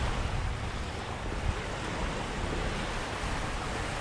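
Steady surf washes onto Paguera beach in Mallorca, a continuous broadband rush of breaking waves with some wind, close and unbroken throughout.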